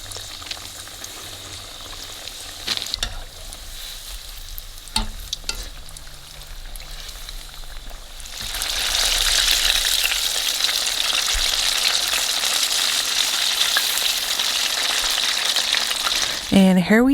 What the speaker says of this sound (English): Now time to fry them.